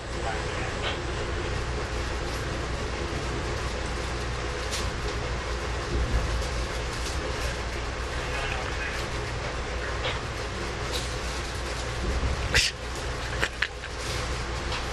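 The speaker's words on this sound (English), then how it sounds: "There's an engine coming down." A train engine rumbles steadily past near Horseshoe Curve, coming down from Gallitzin, with a continuous roar of wheels on rails, faint clacks and squeals rising over the heavy din.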